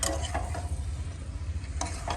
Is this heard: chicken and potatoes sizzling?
yes